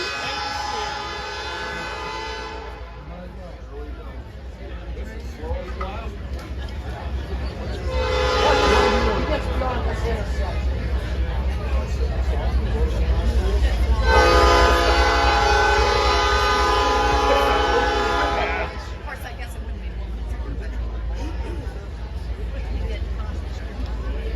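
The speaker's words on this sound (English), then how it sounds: "We got a train coming." A train rumbles past a small village gathering, its horn blaring in two long blasts over the steady low roar of the rail cars, with crowd chatter faintly underneath.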